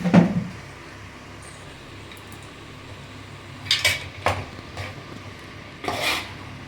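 A spoon stirring chicken masala in a metal pot: sparse metallic clanks and scrapes against the pot, a few sharp knocks spaced over a quiet background.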